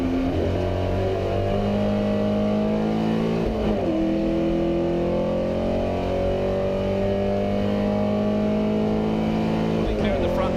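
Porsche 356 and other 1950s race cars, among them a little Lotus Mark 6, howl past in close company during a Goodwood Revival race, engines droning and shifting pitch continuously over the whole stretch, with commentary running over them.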